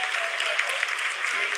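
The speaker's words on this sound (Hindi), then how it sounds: "आप तालियों के गड़गड़ाहट से सुन सकते हैं" Applause fills mission control during the Chandrayaan 3 lunar landing, a dense continuous clapping from many people at steady volume throughout.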